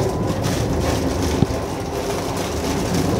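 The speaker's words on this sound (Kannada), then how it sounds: "ಸ್ಟಾರ್ಟ್ ಆಯ್ತು ಟ್ರೈನ್ ಈಗ" A Vande Bharat Express train pulling away, with a steady broadband rumble and hiss of the moving carriage heard from inside, a single sharp knock midway and no voices.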